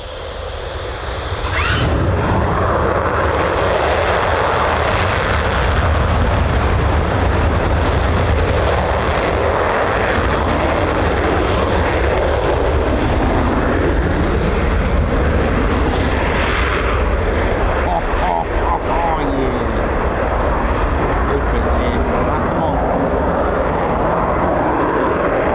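A fighter jet, F-15 or F-35, takes off at RAF Lakenheath with a loud, roaring engine blast that swells and holds as it climbs, with distant rumbling carrying on and no talking.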